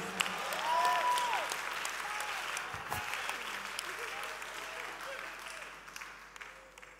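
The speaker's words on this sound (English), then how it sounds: "The clapping is not much, but it's okay." Light scattered clapping from a church audience fades gradually, with a few voices and faint tones mixed in.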